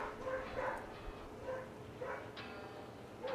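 Several dogs bark repeatedly in the distance, overlapping yaps and woofs coming in short irregular bursts against a quiet background.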